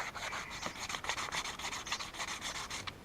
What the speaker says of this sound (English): Just grab yourself a piece of sandpaper and just deburr the edges.